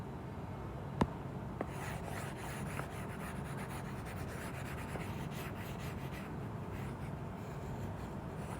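Scratchy rubbing strokes of writing on a board during a Class 9 maths lesson on triangle congruence, a continuous faint rasp with a sharp tap near the start, no talking.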